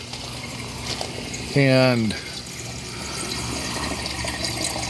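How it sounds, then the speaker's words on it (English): Water from greenhouse downspouts pouring into a drain standpipe, a continuous close rushing and gurgling flow, briefly interrupted by a man's spoken word. "there's plenty of water flowing through them"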